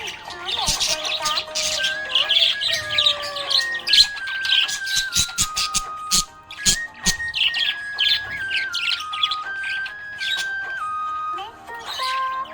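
A pet budgie chirps and trills continuously in bright, quick bursts, close and lively, with sharp tweets and sustained whistled tones layered over one another.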